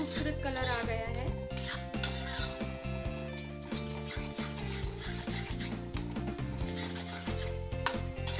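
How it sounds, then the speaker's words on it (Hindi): A spatula scraping and stirring onion besan batter on a tawa over a medium flame, heard as repeated rhythmic rubbing strokes under steady background music. "इसे कंटिन्यूअसली स्टर करते रहेंगे ताकि इसमें लम्स ना बने"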